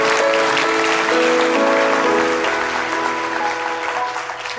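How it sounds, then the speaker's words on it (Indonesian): Church congregation applauding during a Pentecostal sermon, a dense steady wash of clapping that fills the space and holds loud before thinning slightly at the end. "Kalau gak tepuk tangan awas."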